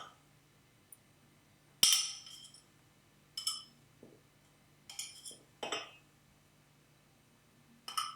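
A mug in a kitchen takes an item dropped in with several sharp, bright clinks spaced apart over near silence, each ringing briefly, with faint ceramic knocks between.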